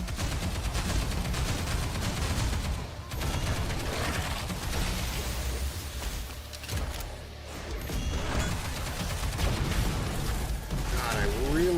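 Dense, continuous gunfire and bursts of machine-gun fire from the action game Stellar Blade, loud and sustained with crashes and mechanical clatter mixed in, and a voice talking faintly underneath.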